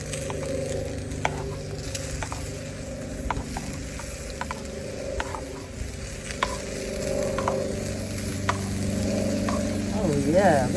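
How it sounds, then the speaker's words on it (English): Steady sizzling and crackling of food frying in a pan on a Coghlan's emergency stove, with faint clinks and stirring noises on top, close by and fairly constant. "Nice sizzle."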